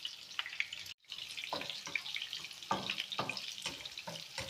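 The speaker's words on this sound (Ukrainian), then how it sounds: "Все разом пересмажую." Onion and garlic fry in a pan with a soft, steady sizzle, punctuated by a few brief stirring scrapes and clatters, close up with no talking.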